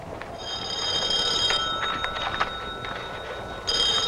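A telephone in a 1965 comedy horror film rings in repeated electric bursts, one long ring, then a pause filled with room noise and clicks, then the ring starts again, fairly loud and close.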